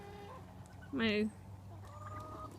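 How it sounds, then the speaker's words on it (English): Wild ducks flying off in a winter garden, with one loud, close quack or honk in the middle and a few fainter calls around it, plus a brief spoken word. "oh, the ducks are flying off"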